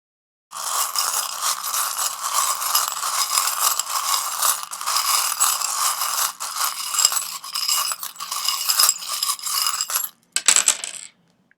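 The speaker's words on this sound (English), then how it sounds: "this would be a good time to switch off the sound now as I shuffle the charms" Small metal charms jingle and clatter continuously as they are shuffled for about ten seconds, a dense bright rattling like coins being shaken, ending with a brief final clink.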